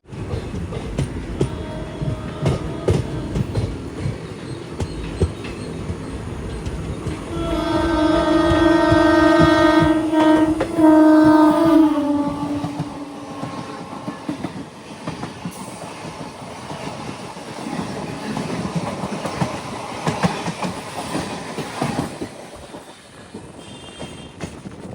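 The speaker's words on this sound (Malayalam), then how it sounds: "രാമേശ്വരത്ത് നിന്നും 665 കിലോമീറ്റർ യാത്ര ചെയ്ത് ട്രെയിൻ ഇതാ ചെന്നൈ എഗ്മോർ റെയിൽവേ സ്റ്റേഷനിലേക്ക് എത്തിയിരിക്കുകയാണ്" The Boat Mail Express from Rameswaram pulls into Chennai Egmore station, with rolling clickety-clack rising to a loud tonal squeal mid-way, then fading to softer rumbling and wheel clatter.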